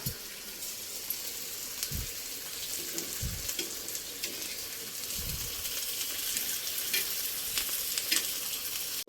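Potatoes frying in a pan on a gas stove, a continuous bright sizzle with occasional stirring scrapes and clunks of a spoon, steady and close with no talking.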